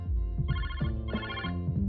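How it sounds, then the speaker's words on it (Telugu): A telephone rings in a television serial scene, a repeated electronic ringtone in two bursts over a low background of music. "చూడు నీకేనేమో ఫోన్"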